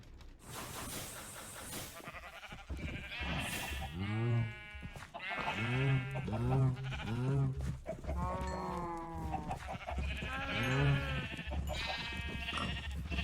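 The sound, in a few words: cows in Minecraft modpack FTB Skies video game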